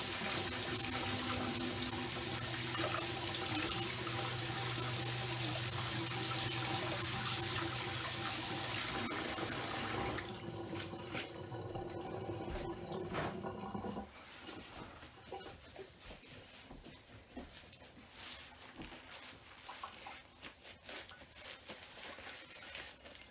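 Running tap water rinsing green acrylic paint off during a straight pour session: a steady, loud broadband rush for about ten seconds that then thins and drops into a quieter, fainter trickle.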